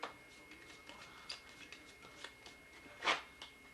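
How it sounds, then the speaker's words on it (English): A magician shuffles a deck of playing cards, quiet riffling and tapping clicks spread through the moment, with one sharper card riffle near the end. "any number of ways to shuffle"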